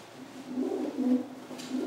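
Close, low cooing of a male homing pigeon in a gentle throaty rolling pattern, repeated a few times against a quiet background.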